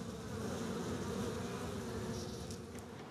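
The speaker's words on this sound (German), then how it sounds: "Da haben wir den Bienenfeind, die asiatische Hornisse." An Asian hornet buzzes near beehives, a continuous low droning hum that stays close and steady, with no voices.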